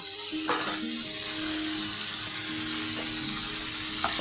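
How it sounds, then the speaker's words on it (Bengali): Fried pointed gourd stirred into spice masala in a pan gives a steady, close sizzle of frying with a few soft stirring scrapes, no voices. "পটলটা দিয়ে একটু কষিয়ে নিই।"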